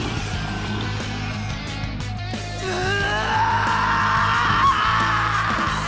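A character in the Persona 3 Reload video game screams in a long, loud, wavering yell over continuous game music and effects.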